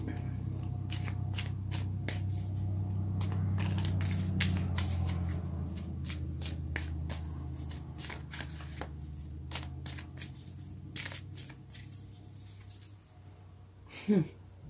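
Tarot cards being shuffled by hand in a series of crisp riffles and snaps, close and moderately loud, over a low steady hum, with a voice talking quietly underneath.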